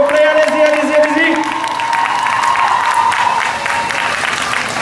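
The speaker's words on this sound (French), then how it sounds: "On les remercie avec la plus grosse salve d'applaudissements du week-end" Big crowd applause and cheering at a manga convention stage reunion, loud sustained clapping throughout, with a voice talking over it near the start.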